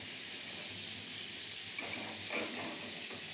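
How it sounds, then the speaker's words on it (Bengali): Rohu fish fries in a pan with a continuous close hiss and sizzle, steady and even, with a few slightly louder spits toward the end. "প্রায় হয়ে এসছে মাছ ভাজা, এই তো কমপ্লিট।"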